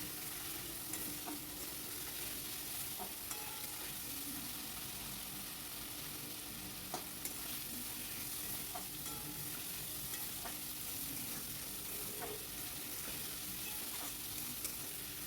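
Hilsa fish curry with eggplant sizzles and fries in a pan as the masala of ground cumin and chili paste is stirred and sautéed, giving a continuous frying hiss with occasional scraping clicks of the spoon.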